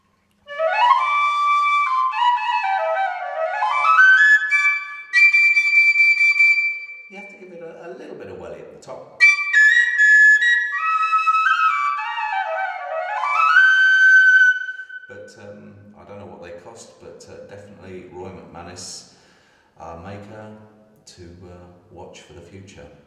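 A bright McManus big-bore tin whistle plays flowing melodic runs with sliding ornaments, clear and close, followed by a softer stretch of lower, choppier notes.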